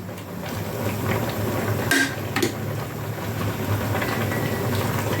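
Pork sinigang with pechay being stirred in a pot: a steady bubbling, rain-like simmer with a couple of sharp clinks of utensil against the pot near the middle, close and continuous without talk.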